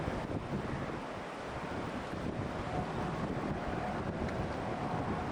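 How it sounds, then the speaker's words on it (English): A high-water overflow stream from the bank pours back into the Provo River during big late-May flow, a steady rushing wash of water mixed with wind buffeting the microphone. "This overflow from the bank above here is coming back in."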